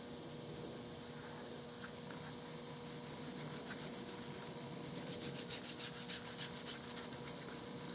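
Wooden forearm of a Browning Superposed 12-gauge shotgun being buffed with 12,000-grit abrasive, a soft steady rubbing hiss that runs throughout, growing slightly stronger and more rhythmic toward the end, with no talk.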